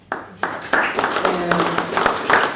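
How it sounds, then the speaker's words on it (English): Audience at a media briefing bursts into applause, with dense clapping starting abruptly and continuing steadily, moderately loud, over faint background murmur. "I think you deserve a round of applause."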